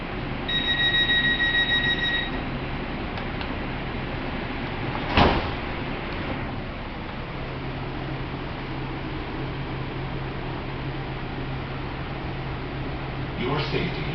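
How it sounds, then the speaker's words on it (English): An LA Metro A Line train sounds a steady electronic warning chime for about two seconds, then its doors thud shut, followed by a low rumbling cabin hum and a recorded announcement voice. "Please stand clear. The doors are closing."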